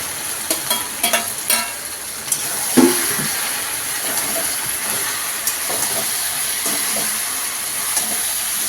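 Potatoes tipped into a hot pan of oil sizzle steadily, with a few sharp clatters and stirring knocks near the start, then a continuous loud frying hiss.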